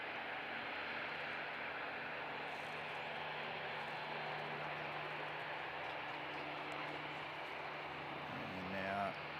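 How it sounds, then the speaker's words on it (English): A private aircraft departs from Christchurch International Airport, its engine noise a steady broadband roar held at a distance for several seconds and swelling slightly near the end. "we've got a private aircraft departing"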